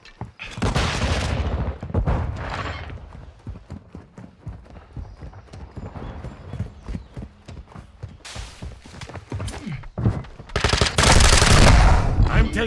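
Loud bursts of rapid automatic gunfire from a Call of Duty match come in heavy clusters at the start and end, with quieter shots and game sounds between.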